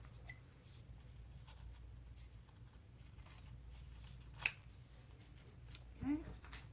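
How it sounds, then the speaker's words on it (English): Scissors snip paper for a handmade pink journal. A few quiet, crisp cuts come at close range over a soft background hum, and one sharper snip stands out near the end. "let's cut this piece to match"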